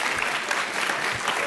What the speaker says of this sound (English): We have a very enthusiastic crowd.